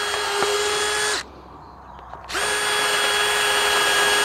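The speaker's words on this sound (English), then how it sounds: "So we're going to drill a hole" A power drill whines loudly in two long bursts while drilling a hole in a wooden nest box, with a short pause between them, steady high-pitched motor tone close by.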